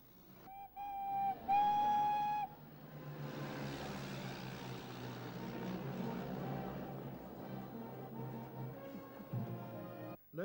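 Steam locomotives run around at Bodiam station: two loud whistle blasts come first, then a long, rumbling chuff and roar of the engines moving past, fading toward the end.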